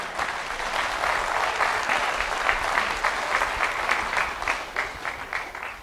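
Audience applause at an engineering and art talk, a dense patter of many hands that holds steady, then thins into fewer, more distinct claps near the end.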